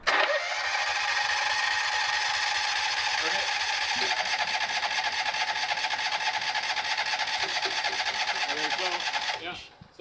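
John Deere Gator HPX 4x4 engine cranking, catching and running steadily for several seconds before cutting off abruptly near the end, close and loud with voices talking over the engine.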